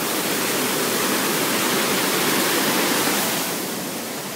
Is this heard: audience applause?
no